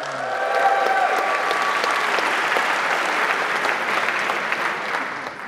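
Audience at a UX strategy conference talk applauding and cheering throughout, a dense, steady wash of clapping with a few whoops early on.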